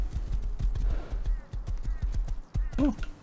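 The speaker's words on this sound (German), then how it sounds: "Oh. Hallo, Pferdchen." A horse in the game Rust walks with a regular clip-clop of hooves, close and fairly loud, ending in a short whinny-like call, while a voice speaks over it.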